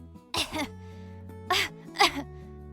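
A girl coughs weakly three times, spaced apart, with short harsh bursts over a low background hum.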